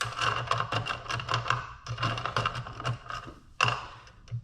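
Metal bolts clink and rattle in irregular bursts as they are fished out of a container of cleaning liquid during a Honda Element oil pan replacement, with short sharp taps and scrapes, close and moderately loud, no talking.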